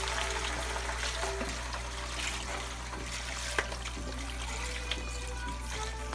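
Chicken broth from a quart container pours steadily over trimmed green beans in a home kitchen, a continuous liquid trickle and splash over a low background hum.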